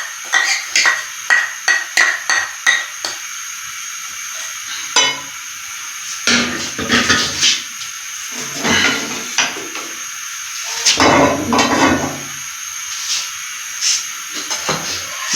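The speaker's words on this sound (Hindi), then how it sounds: "इसमें मीडियम साइज की छोटी सी प्याज हमने डाल देनी है, इसको मामूली बीच में फ्राई करना है।" A small medium-size onion fries in a tablespoon of ghee in a frying pan over a medium flame, sizzling and hissing close up, broken by repeated clinks and scrapes of stirring.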